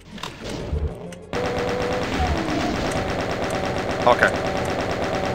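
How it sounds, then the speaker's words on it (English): Shotgun-wielding enemies fire in the game Doom 2 amid a dense, continuous barrage of gunfire that starts abruptly after a brief quieter stretch, with a speaking voice briefly over the top. "You can hear the shotgunners there."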